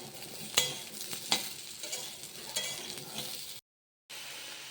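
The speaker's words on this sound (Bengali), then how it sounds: "এরপর ফুলকপিটা আমি ভেজে নেব" Cauliflower pieces fry in a pan with a low, steady sizzle. A few sharp scrapes and taps come from stirring, then the sound cuts briefly before the frying resumes.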